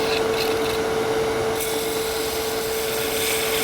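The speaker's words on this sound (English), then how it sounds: "I could use a skew chisel or I could use this detail gouge" Detail gouge cutting a spinning wooden top on a lathe, a steady loud rasping shear over a constant motor hum, continuous and close with no voice.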